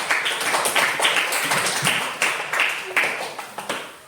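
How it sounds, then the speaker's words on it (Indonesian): An audience applauds a school headmistress with a patter of many claps that swells and fades in waves, with a few louder individual claps standing out near the end. "Kita beri aplaus untuk beliau"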